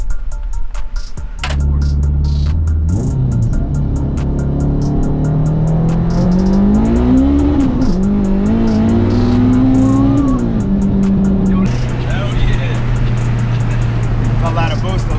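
An all-wheel-drive R53 Mini Cooper with a turbocharged Honda K24 swap accelerates hard, its engine note climbing steadily through the rev range and falling back between gear changes, loud and close from inside the cabin, with people talking over it.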